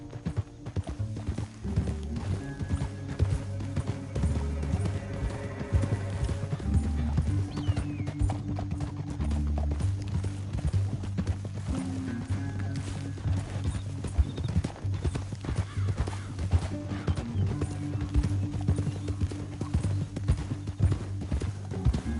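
Horses clip-clop steadily on a trail in Red Dead Redemption 2, hooves beating in a continuous rhythm over a low musical score, with an occasional faint whinny and no talk.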